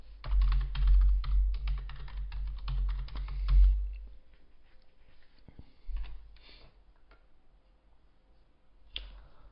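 Fingers type on a computer keyboard in a quick burst of close clicks for a few seconds, then scattered single keystrokes and taps in a quiet room.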